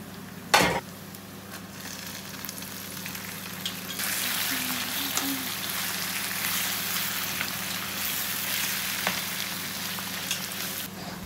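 Onions frying with salt in a covered pan, a steady broadband sizzle that swells louder after a few seconds, with a sharp knock near the start and faint ticks scattered throughout.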